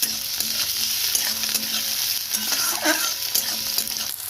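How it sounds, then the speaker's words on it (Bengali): Chopped garlic, onion and tomato are stir-fried in a pan, a close steady sizzle broken by quick scraping stirs and light clinks of the spatula. "একটু নেড়ে চেড়ে ভেজে নেবো"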